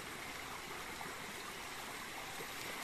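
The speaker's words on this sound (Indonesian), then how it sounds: "ini airnya kemericik" A forest stream's water gurgling and rushing steadily, a continuous close wash of flowing water with no other sounds.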